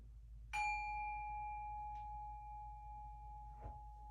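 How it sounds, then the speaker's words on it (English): A single singing bowl or meditation bell is struck once to open a yoga practice, giving a clear ringing tone that sustains and slowly fades, with a faint touch near the start of the ring. "I'll ring the bell and we'll take a round of Om."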